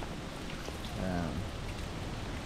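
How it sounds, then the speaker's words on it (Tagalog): Steady rain hissing and pattering across a surface, a continuous wash of sound with a faint low rumble rising briefly in the middle. "Ulan yan."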